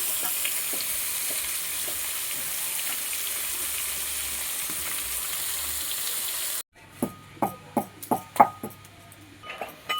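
Fish dropped into hot oil with potatoes for a cauliflower fish curry, a steady loud frying hiss that cuts off, followed by a few sharp clinks and sizzling bursts from a stirring utensil in the pan.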